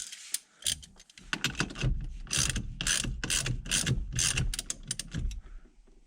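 A ratchet tightens the hub of a quick release steering wheel on a Foxbody Mustang, with rapid, close clicking strokes in uneven bursts.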